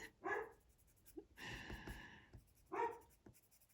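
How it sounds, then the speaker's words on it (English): A pet dog gives a few short, muffled barks and whines indoors, spaced out over a couple of seconds, with a soft scratching of coloring pencils in between. "You will not get a coloring video from me without hearing my dog barking."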